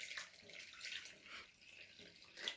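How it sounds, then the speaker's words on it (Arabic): Ordinary tap water runs from a kitchen faucet while a snack dough is prepared, a faint, steady hissing stream with slight swells, quiet and alone. "ومعانا ميه عاديه خالص من الحنفيه"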